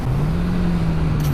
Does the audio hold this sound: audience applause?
no